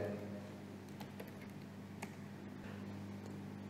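Computer keyboard typing in a quiet room as a router add command is entered, soft irregular key clicks over a steady low hum.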